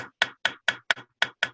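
Seven light, crisp hammer taps strike a liner chasing tool during repoussé metalwork, each a sharp metallic tick spaced about a quarter second apart, close and clean against silence.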